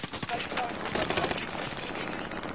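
Rapid bursts of heavy automatic gunfire with strong recoil in a PS4 shooter, dense and loud throughout, with game ambience and faint voices underneath.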